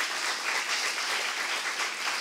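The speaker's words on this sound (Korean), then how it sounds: "빨리 박수 주세요." Steady, dense applause from a church congregation at a Saturday worship service, filling the whole stretch evenly and fairly loud with no voices over it.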